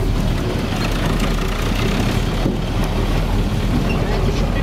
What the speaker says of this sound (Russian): А это слышно, как вот дизель дымит.